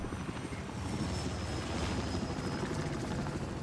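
A Little Bird helicopter in a combat video game, heard as a steady, loud rotor and engine drone that holds constant throughout, with no talking.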